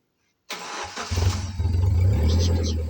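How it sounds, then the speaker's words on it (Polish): After a brief silence, a car engine cranks and catches, then settles into a steady, loud idle. "Uruchomię silnik, uwaga."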